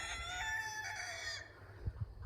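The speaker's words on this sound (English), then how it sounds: "The roosters are always crowing." Roosters on a 10-acre homestead crow on a calm evening, a drawn-out tonal cock-a-doodle-doo fading at a moderate distance, followed by a couple of soft low thumps.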